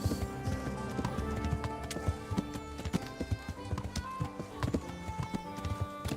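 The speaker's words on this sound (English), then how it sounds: "I probably shouldn't be galloping through the city." Hooves of a horse galloping through a medieval city in Kingdom Come: Deliverance, a quick irregular clip-clop rhythm over game music and ambient layers, fairly close and moderately loud.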